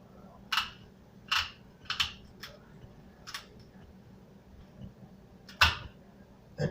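Tin snips cut the fins off a buffalo fish in a series of faint, sharp snipping clicks, irregularly spaced with quiet gaps between them.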